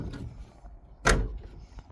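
The door of a 1967 Camaro barn find makes one sharp latching clunk midway through, set against quiet low rumbling background noise, with no talking.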